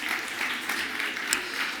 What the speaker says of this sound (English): Big applause for her, too.